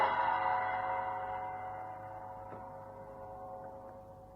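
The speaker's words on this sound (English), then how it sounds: "A gong sounded deep inside the building." A temple gong rings out once, its deep shimmering tone already sounding and slowly decaying over several seconds, resonant and fairly quiet.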